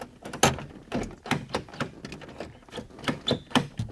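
The door of a flood-damaged salvage Nissan 300ZX is worked at with a quick series of close, dry clunks and latch rattles that repeat in an uneven rhythm.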